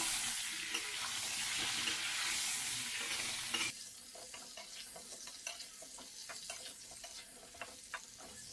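Pointed gourd and potatoes frying together in a pan, a bright sizzle that drops sharply partway through, leaving a quieter crackle punctuated by repeated spatula taps and scrapes.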